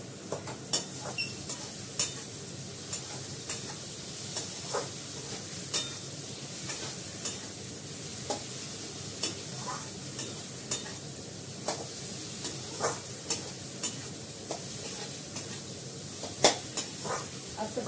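Onions and tomatoes sauté in oil in a pan as a spatula stirs and mashes them, a steady low sizzle broken by frequent sharp scrapes and taps of metal against the pan, close and alone.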